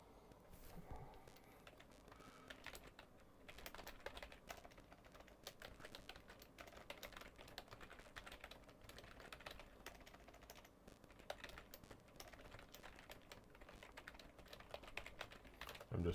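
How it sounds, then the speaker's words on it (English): Someone types steadily on a computer keyboard, a quiet continuous patter of rapid key clicks with small bursts and pauses, no one talking. "I'm just typing up the description for my video here."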